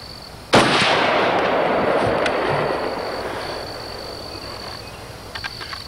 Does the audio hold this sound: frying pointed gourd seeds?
no